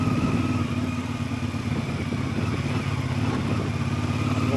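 A motorcycle riding on a smooth asphalt road in Morocco on the way to the Sahara in hot weather, its engine droning loud and steady throughout with a constant rumbling hum and no talk.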